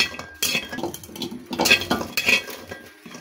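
Lentil dumplings (bori) being stirred in a hot dry wok, with irregular metallic scrapes, clinks and rattles of a utensil against the pan, close and uneven.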